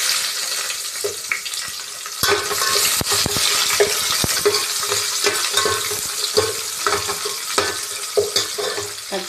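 Whole spices, including cinnamon stick and bay leaf, fry in hot oil as a biryani tempering, with a loud, dense, continuous sizzle close up and scattered sharp clicks and scrapes from stirring.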